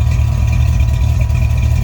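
A steady low mechanical hum of a running external fuel pump, a Holley Blue 110 GPH, under an idling engine, continuous and fairly loud with no pauses.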